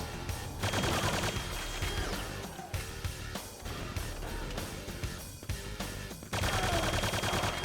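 Rapid, dense weapon gunfire from the shooter game Quake II, loud and near, firing in sustained bursts with brief gaps around the middle before a heavy final burst.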